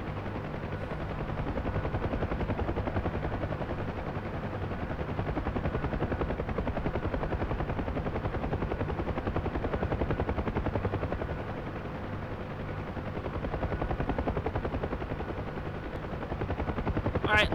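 Enemy gunfire in the flight combat game DCS World, heard from an F-16 Viper cockpit as a dense, continuous rattling that lasts throughout the clip over a steady engine drone.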